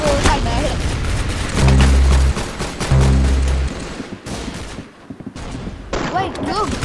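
Rapid gunfire in the Roblox shooter game Arsenal, loud bursts of repeated shots and booms with short pauses between volleys, mixed with game effects and voices.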